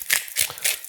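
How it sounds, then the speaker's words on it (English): A hand-turned pepper mill cracking peppercorns over a salmon dish, giving three quick gritty hissing bursts in under a second, close and clear. "And a good grinding of pepper."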